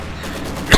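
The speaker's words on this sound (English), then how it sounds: "Heavy mortar continues to fire away." A heavy mortar fires once in the World War II strategy game Company of Heroes 2, a sharp loud boom near the end after a brief stretch of quiet battlefield ambience.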